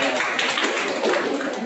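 A class of students applauds together in a classroom at the end of a microteaching lesson, a dense, steady wash of many hands clapping at once, close and fairly loud, with no talk over it.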